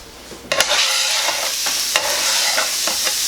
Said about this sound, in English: he's scrambling us some eggs up